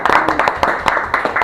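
A small audience at an academic lecture gives a brief round of clapping, a close, uneven burst of hand claps lasting under two seconds, with voices mixed in.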